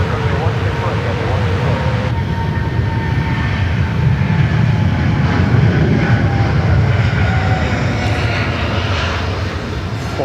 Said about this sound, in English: the beautiful GE90 Symphony, whatever you like to call it